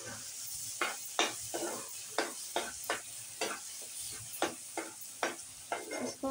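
Ground tomato cooks into spiced masala for an Odisha-style parshe fish curry, a sizzling fry under rhythmic, regular scrapes of a spatula stirring against the pan, close and moderately loud, without speech.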